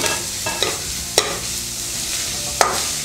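Beetroot, capsicum and onion sautéing in a pan give a steady close sizzle, broken by a few sharp spatula scrapes and clacks as the vegetables are stirred, with no talking.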